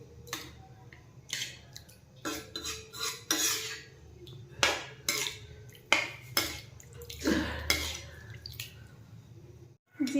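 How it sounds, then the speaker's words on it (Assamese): Water is added to a simmering fish and tomato curry in a pot and stirred with a metal spoon, producing repeated close scraping clinks and splashy swirls in an irregular rhythm, with no talking. "এতিয়া আমি ইয়াত পানী দিম। পানী দি ভালকৈ মিলাই লওঁ।"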